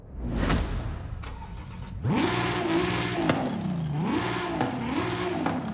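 A 2JZ-swapped NASCAR race car in Forza Horizon 5 starts with a crank and burst, then idles and revs, its tone rising, falling and climbing again in smooth sweeps, loud and steady with no talking.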